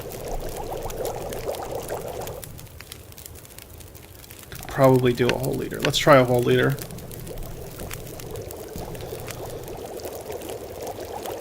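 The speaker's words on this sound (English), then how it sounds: "I'm just going to use up the rest of this by melting snow and turning it into water." Snow melting into water over a fire in the video game The Long Dark, a short pouring, crinkling water effect heard midway, surrounded by someone talking calmly over a low ambient game hum.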